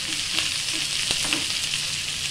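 Tempering spices frying in a small pan for rice, a close, steady sizzle with light crackling pops and a faint stirring scrape.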